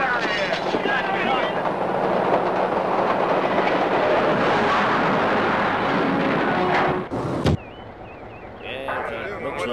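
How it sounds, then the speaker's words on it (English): EMD F40PH diesel locomotive with its prime mover at 900 RPM, a loud, continuous roaring rumble with rail clatter, steady for most of the clip before dropping sharply near the end, with a voice over it. "the prime mover would constantly need to run at 900 RPM, thus creating a deafening roaring noise"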